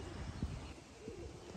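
Racing pigeons, including five new young birds, cooing and calling faintly outdoors against a steady background hiss, with a few brief low coos standing out.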